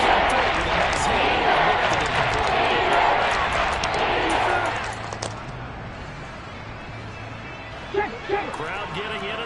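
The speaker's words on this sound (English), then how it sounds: "Crowd getting in it a bit already." A football stadium crowd roars loudly for several seconds, then the noise eases into a lower murmur while a commentator keeps talking over it.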